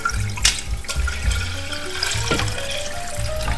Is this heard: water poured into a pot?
yes